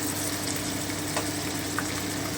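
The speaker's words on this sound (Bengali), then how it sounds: "আমি হালকা ব্রাউন করে একটু ভেজে নিচ্ছি" Onions and ground spice paste fry in a pan for a chicken dish, giving a steady close sizzle with a few faint stirring scrapes and no talk.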